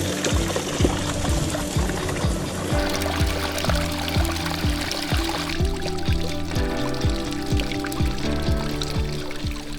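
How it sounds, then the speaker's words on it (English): Small mountain streams flow across a hiking trail on Glacier National Park's Grinnell Glacier Trail, a steady close-up rush and trickle of water running throughout without talk. "tiny flowing streams that make their way down the mountain and across the trail beneath your boots"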